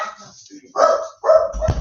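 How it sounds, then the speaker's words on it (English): Dogs bark in a few short bursts at moderate distance, mixed with brief background voices in a home setting. "Let me just wait for the dogs to stop."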